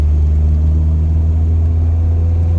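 A car rolling down a road at night with its low-beam headlights on, a steady low engine and road rumble running throughout with no voices.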